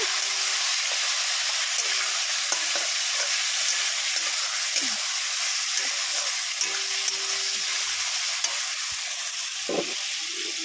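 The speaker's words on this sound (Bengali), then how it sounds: "এই মশলা দিয়ে দিলাম, আমি মশলা দিয়ে নাড়ছি।" Spices and fried onions sizzle steadily in a hot pan, with a constant hiss broken by occasional scrapes and knocks from stirring; no one speaks.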